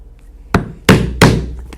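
Three sharp hammer strikes on a leather punch, driving holes through the belt tab of chaps yokes; loud, spaced blows ringing briefly, with no talk.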